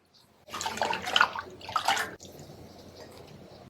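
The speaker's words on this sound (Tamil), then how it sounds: "அதை நல்லா தொளியை சீவிட்டு இப்போ இதை கழுவிக்கலாம்" Water splashing over peeled ginger pieces being washed by hand: a loud burst of rushing, sloshing water, then a softer steady trickle, close by with no voices.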